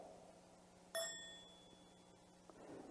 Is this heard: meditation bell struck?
yes